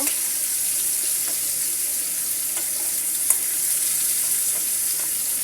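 Teasel gourd (kakrol) fries in a little oil with a loud, continuous hiss and crackle. Faint stirring scrapes sound now and then under the steady sizzle.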